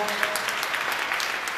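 Brief burst of applause in a church during a Third Sunday of Easter Mass, a steady patter of many hands clapping at moderate distance with voices mixed in.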